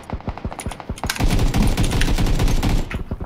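Automatic rifle fire in PUBG (Battlegrounds), loud close bursts of rapid shots in a rolling stream, with a few single cracks before the sustained volley.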